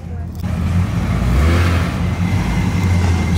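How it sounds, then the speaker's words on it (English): A Chevrolet LS7 V8 with an aftermarket exhaust idles and revs at a cars and coffee meet, a loud, steady low rumble with a rising surge, while people talk nearby. "There isn't much in the world that sounds better than a proper exhaust on an LS7."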